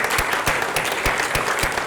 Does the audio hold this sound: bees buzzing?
no